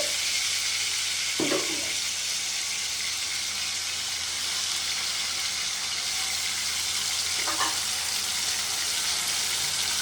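Tomato and onion paste frying with a fish curry in a pan, giving a steady dense sizzle from start to finish, broken by two brief stirring scrapes.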